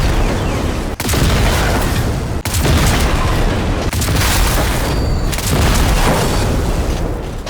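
Repeated heavy booming explosions of gas tanks detonated by shotgun fire in a first-person shooter video game, loud and dense, with sharp sudden breaks between blasts and continuous rumbling debris.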